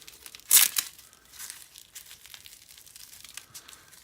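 A RECON tourniquet being folded, giving a sharp crinkling crackle at the start followed by softer, scattered rustles and crinkles, close and quiet.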